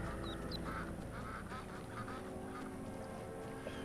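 Ducks, including adults with little ducklings, quack softly and intermittently at a distance over a quiet, steady outdoor background.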